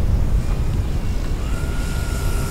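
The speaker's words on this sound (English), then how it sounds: "That was a touch and go." Steady, close droning engine of a Hangar 9 Carbon Cub 15cc gas-powered RC plane doing a touch and go, with wind rumble underneath and a slight rise in tone toward the end.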